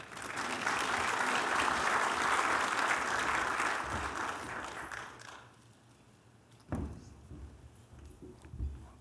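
Audience applause welcoming a keynote speaker at a conference, dense and sustained clapping for about five seconds before fading away, followed by a few isolated thumps and footsteps on stage.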